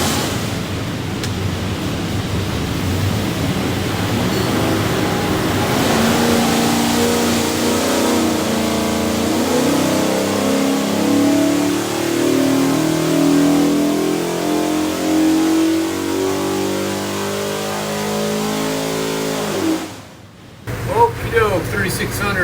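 A Ford 347ci stroker V8 built for an '84 Fox Body Mustang roars loud and close on a dyno, climbing steadily in pitch through a long pull before cutting off sharply near the end, with a brief burst of noise after.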